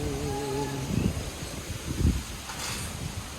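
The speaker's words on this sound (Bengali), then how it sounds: "প্রচন্ড বাতাস চলতেছে" Strong wind blows under a heavily clouded sky ahead of expected rain, a steady broadband roar with a couple of louder gusting buffets and no voices.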